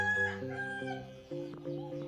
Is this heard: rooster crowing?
yes